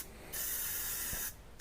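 A spray can sprays Plasti Dip onto a helmet in one close, steady hiss lasting about a second, with a quieter hiss before and after it.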